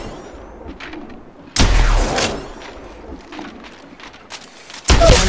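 Gunfire during a ranked Apex Legends match: a loud burst of shots erupts midway, with a second burst near the end, over a steady bed of in-game ambience and scattered smaller impacts.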